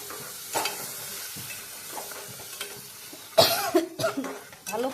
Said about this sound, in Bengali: এই মশলাটা আর কি ভালো করে আমি নাড়াচাড়া করে তারপরে লবণ দিই